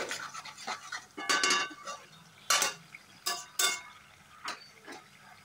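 Tomato paste with ginger sautéing in a pan, heard as a soft frying sizzle broken by repeated spoon scrapes and clinks against the pan at an uneven pace; close and moderately quiet.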